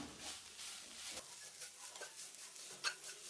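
Curry leaves, grated carrot and salt being sautéed in a pan, a faint close sizzle with soft rhythmic stirring scrapes and a light clink of a utensil.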